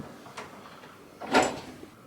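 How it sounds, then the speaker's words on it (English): A door opening during a ghost-hunting investigation, heard as a faint thump followed by one louder, brief knock-like burst, close by and alone with no talking. "he opens the door"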